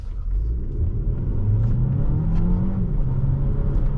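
An Alfa Romeo Tonale pulling away in drive, a steady low engine rumble from inside the cabin with a rising tone as it accelerates.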